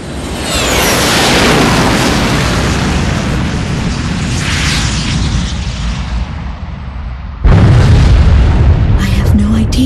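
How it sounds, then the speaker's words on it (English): A deep, sustained roaring explosion blast in Ace Combat 6: Fires of Liberation on Xbox 360, with rumbling low end that slowly fades, followed by a sudden loud electronic burst and tones near the end. "Was that a blast of wind from an explosion?"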